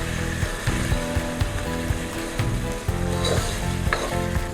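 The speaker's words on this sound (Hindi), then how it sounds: "और इसके साथ ही डाल देंगे हम दही और थोड़ा भूनेंगे इसे ताकि अदरक का कच्चापन निकल जाए" Chicken fries loudly in a pan with yogurt and ginger paste, giving a steady hiss with repeated scraping knocks as a spoon stirs the mix.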